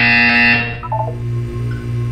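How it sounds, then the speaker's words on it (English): A short electronic buzzer sounds in the video game Portal 2, a steady harsh tone that cuts off after about half a second, followed by a faint low hum. "You will hear a buzzer."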